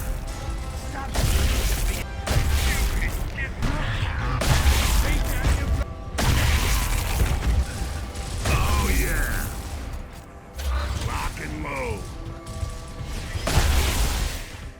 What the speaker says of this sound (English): I dare you to come up with a more satisfying headshot than popping Locust's brains